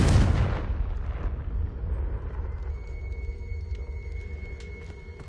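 A Confringo blasting curse goes off in a Harry Potter video game: one heavy, loud explosive boom at the start that decays into a long low rumble with a faint lingering tonal hum.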